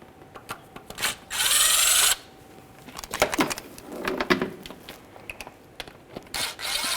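A power tool whirs in a loud, steady burst of about a second while removing transmission pan bolts on a 1998-2011 Ford Ranger, set among scattered clanks and handling noises from the job.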